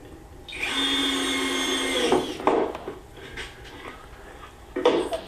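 An electric sander runs against a wooden bottom plate in a workshop, a loud close whirring buzz for about two seconds, then stops, followed by knocks and handling clatter of the wood.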